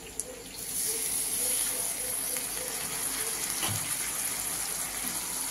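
Vinegar hitting capsicum, onion and green chilli frying in a pan gives a steady hiss and sizzle that swells early and holds evenly, with a faint clatter partway through.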